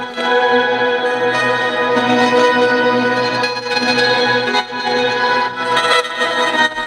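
Granular texture from two LFO-modulated grain delays with auto-panning and a reverb, squashed by OTT compression: a dense, continuous shimmering wash of sustained tones and grainy flutter, steady and loud with no voices.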